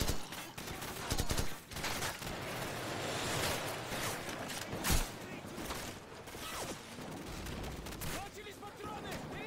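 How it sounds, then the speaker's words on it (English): Call of Duty 4: Modern Warfare battle around a church, dense rattling gunfire with heavier booming blasts, continuous and fairly loud, a voice talking over it now and then. "the enemy to obliterate the church with a bunch of bullets and grenades"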